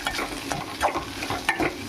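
Okra (bendakaya) frying crisp in a pan, a close sizzle broken by quick spatula scrapes and tosses every half second or so, with nobody talking.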